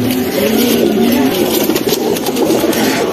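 A female Bagha pigeon coos in low, throaty rolls close by, part of a loud, noisy outdoor scene with a rumbling engine-like hum underneath.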